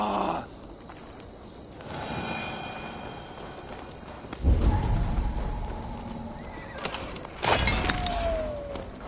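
Horse hooves clip-clop in Assassin's Creed Valhalla, with a whinny and a sharp breaking crash at about 4.5 s and again near 7.5 s over a steady game ambience.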